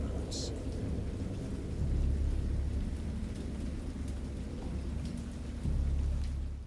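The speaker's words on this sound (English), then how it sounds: "Thunder and lightning." Steady rain falls through a thunderstorm while deep rumbles of thunder swell and fade twice in the background, a dense, even wash of sound with no voices.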